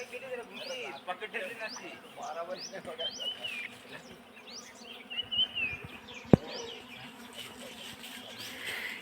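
A dense buzzing of a wild honey bee swarm around a honeycomb on a cashew tree fills the air, with bird chirps, faint voices in the background and one sharp knock.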